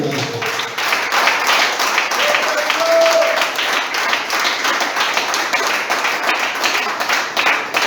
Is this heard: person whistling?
no